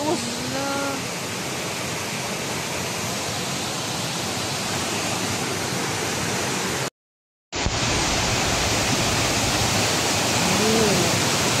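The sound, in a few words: strong waterfall at Middle Earth Spring Resort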